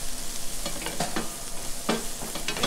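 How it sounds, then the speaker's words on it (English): A wooden spoon stirs and scrapes through contents frying in a pan. Soft knocks and scrapes come at an uneven pace over a steady sizzle close by. "Grab my wooden spoon. Give it all a nice little stir."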